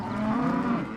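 Cattle on the last day of a cattle drive give a single sustained, loud moo lasting about a second, close and clear, with no talking.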